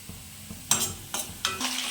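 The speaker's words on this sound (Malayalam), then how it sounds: "ഇതിലേക്ക് പച്ചമുളക് ഇട്ട് വഴറ്റുവാണേ" Green chillies sizzle in hot oil in a pan, three or four short hissing surges of sautéing and stirring separated by quieter gaps, close and fairly soft.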